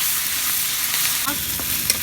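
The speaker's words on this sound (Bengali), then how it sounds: "একটু আদা বাটা, একটু রসুন বাটা দিয়ে দিচ্ছি, দিয়ে আমি মধ্যেখানে একটু ভেজে দিচ্ছি" Ginger and garlic paste frying among browned onions in a hot pan, a bright continuous sizzle with a couple of light stirring scrapes, no voices.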